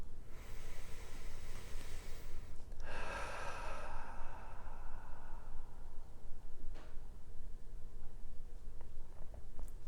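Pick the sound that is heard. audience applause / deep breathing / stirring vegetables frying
deep breathing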